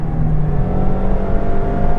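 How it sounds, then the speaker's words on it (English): A Mazda MX5 184 on a race track, its engine droning loud and close under load with a steady, slightly rising whine and no voices. "I actually quite like the sound of this car on track"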